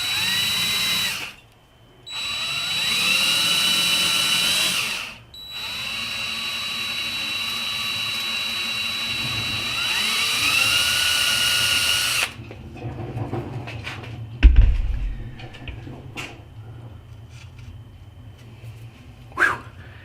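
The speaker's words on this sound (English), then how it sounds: "Alright, we'll drill those out." Power drill boring small hardware holes into a cedar wood crankbait carved from an old fence picket, in several loud whining bursts with short pauses, followed by quieter handling and clatter.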